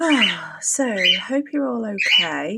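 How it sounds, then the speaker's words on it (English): Caged pet birds give brief chirps and squawks in a home workspace, mostly under a woman's close, continuous talking. "Sorry about the birds."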